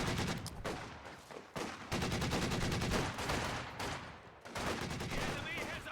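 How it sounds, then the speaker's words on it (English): Heavy DShK machine gun fire in a strategy video game, loud rapid bursts in repeated volleys with brief gaps, mixed with other gunfire and battle noise. "Dushka's firing"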